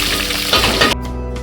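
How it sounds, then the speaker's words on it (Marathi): Two inches of crushed ginger hit hot oil with a loud, close, bright sizzle that cuts off abruptly partway through, leaving a quieter fading hiss. "आपण अद्रक टाकतोय, आलं आपण ठेचून घेतलं, 2 इंच आलं घेतलेलं"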